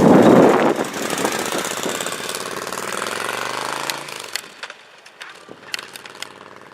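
A motorcycle engine during a riding practice session on a figure-8 test course, loud at first with a steady running drone that drops away after about four seconds, leaving sharp intermittent clicks and knocks.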